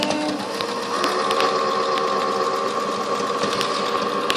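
A sewing machine runs steadily close by, stitching an inside-leg seam on newborn pants with a fast, even mechanical whir and needle clatter.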